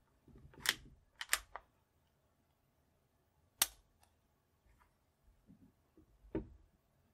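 A Colt Model 1903 Hammerless pistol gives crisp, close metallic clicks as its trigger and safety are worked, with a quick cluster of sharp snaps early, a lone click in the middle, and fainter handling noises after.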